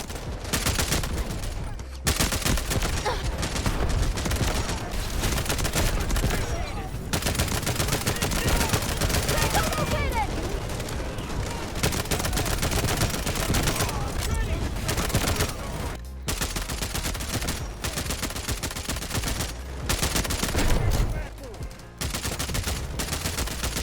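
Rapid semi-automatic gunfire in the Delta Force video game, fired by scrolling the mouse wheel as the trigger, loud dense volleys nearly continuous for over twenty seconds, broken by a few brief pauses, with faint voices now and then.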